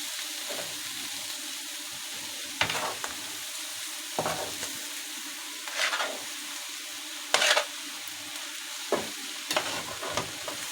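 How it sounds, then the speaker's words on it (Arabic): Mixed offal of liver, mombar, spleen, kofta and sausage being stirred in a pan, with a steady frying sizzle and scattered scraping clatters from the spoon at irregular intervals; no talk. "هاخد بقى الكبده على الممبار على الطحال على الكفته والسجق والدنيا ديت، ونقلبهم بقى في قلب بعضيهم"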